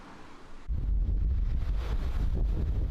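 Loud, roaring storm wind with gusts up to 100 km/h buffets the microphone, surging suddenly after a quieter first moment and staying strong and rumbling throughout.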